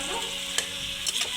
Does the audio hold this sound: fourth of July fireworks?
no